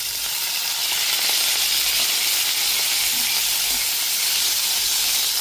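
Chopped tomato and potatoes fry in a pan for a bhindi curry, giving a steady, close, unbroken sizzling hiss with no pauses.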